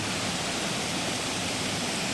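Floodwater left by Typhoon Tino rushes past in a constant, hissing roar of flowing water, steady and unbroken with no voices.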